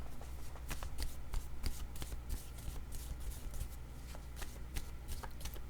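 Tarot cards shuffled and drawn by hand, a steady run of quick papery riffles and taps, close and fairly quiet, with no talk over it.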